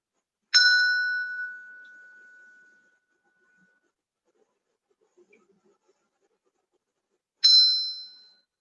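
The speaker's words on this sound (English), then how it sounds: "I'm going to ring the bell just to kind of bring it into home" A meditation bell struck twice during a Reiki meditation session, each a clear bright ring that fades slowly into silence, about seven seconds apart, with faint small noises between.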